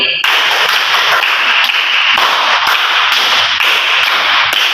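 Sharp, bright claps from a counted classroom clapping routine with children ring out in quick rhythmic bursts, loud and close, repeated steadily with brief pauses between groups.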